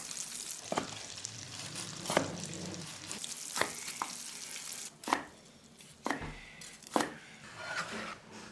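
Chicken legs frying in a pan until golden give a soft steady sizzle, broken by several sharp knocks and scrapes of a utensil against the pan.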